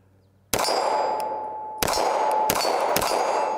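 A CZ Shadow 2 Compact pistol is dry-fired in double action, giving four sharp, close metallic clicks with a brief ringing tail, the first standing alone and the last three coming in quicker succession, with no talking.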